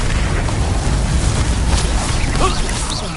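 A Confringo spell explosion in the Hogwarts Legacy video game, heard as a loud sustained booming rumble with burst-like crackle, dense noisy game combat filling the whole stretch.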